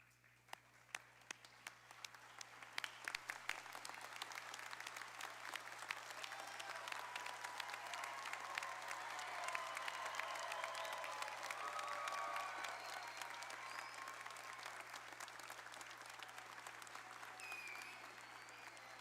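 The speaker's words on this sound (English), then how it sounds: "if everyone would please stand for a final round of applause for our graduates." A standing audience at a health science programs graduation ceremony gives graduates a sustained round of applause, a dense steady wash of many hands clapping that swells and holds for well over fifteen seconds, heard at some distance with a faint crowd murmur.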